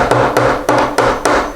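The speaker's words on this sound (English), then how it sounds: "we're going to come in here with a regular flathead screwdriver and a hammer, and we're going to come underneath the pin right here" A hammer taps a flathead screwdriver wedged under a door hinge pin, five or six sharp, evenly spaced metallic knocks in quick succession, close and loud.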